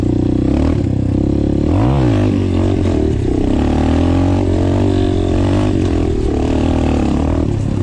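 An Apollo Sano DMZ 250 dirt bike engine roars loud and close, rising and falling through several sharp revs over a constant droning exhaust, with rattling clatter throughout.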